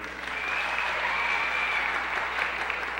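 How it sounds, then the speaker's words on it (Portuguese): A studio audience at a 1978 Brazilian TV variety show applauds for contestant number 1, a sustained even wash of clapping that swells in and holds steady, moderately distant. "Por gentileza, só aplausos, que é para a gente poder ter ideia."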